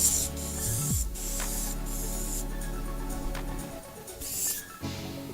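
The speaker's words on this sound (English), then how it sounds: "We're going to spray the opposite way onto the membrane." Clear Q-Dek 2003 adhesive hisses from a spray can onto an EPDM roof membrane over polystyrene, in steady close bursts with a brief break in the middle and a second spray near the end.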